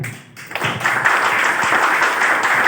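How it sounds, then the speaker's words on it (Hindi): Audience applause in a hotel hall during a seminar program, a dense, sustained burst of many hands clapping that starts after a brief lull and stays loud throughout. "अगर आपको पसंद आया तो ठोको एक बार और ताली"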